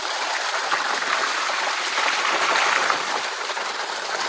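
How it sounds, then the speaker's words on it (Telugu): Fresh water gushes steadily from a tap for hand washing at Madurai Meenakshi temple, a constant splashing hiss close by with no voices. "ఇక్కడ మంచిగా వాటర్ వస్తున్నాయి మనకి చేతులు కడుక్కోవడానికి"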